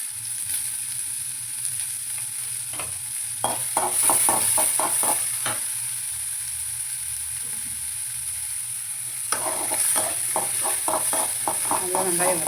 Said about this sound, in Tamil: நல்லா வெங்காயம் வதங்கிடும்.